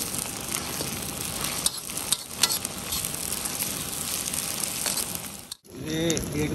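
Ginger garlic paste sizzles loudly in a hot pan while being stirred, a dense, continuous frying hiss with scraping strokes of the spoon, then a brief cut to another moment with a voice speaking over softer sizzle.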